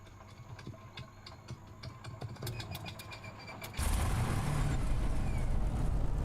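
A Supermarine Spitfire's piston engine starts in Microsoft Flight Simulator at Goodwood: a few seconds of irregular starter clicks and coughs, then the engine catches and settles into a loud, steady, broadband roar, with no talking.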